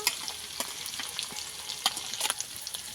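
Fried onion paste sizzles in a pan while chopped tomato goes in and gets stirred, a close, bright crackling hiss with quick scraping and spattering accents and no voices.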